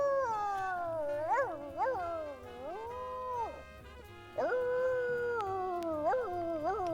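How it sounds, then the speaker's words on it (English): Chief, a dog in The Sims 2, gives long, drawn-out howling and whining cries that rise and fall in pitch, close and fairly loud, with a short pause before another series. "Chief is just up here barking at that."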